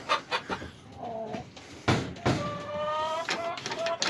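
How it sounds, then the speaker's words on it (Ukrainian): A rooster crows in a winter chicken coop, with hens clucking around it and a few knocks and scrapes nearby. "Хто там так кукарікає."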